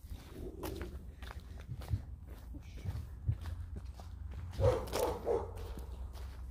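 A dog barks a few times at mid-distance in empty woods near an abandoned house. The barks stand out over footsteps and rustling, with no talk.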